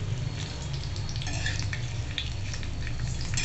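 Slit green chillies roasting on a hot griddle with oil and water, a continuous soft sizzle with scattered crackles under a low steady hum.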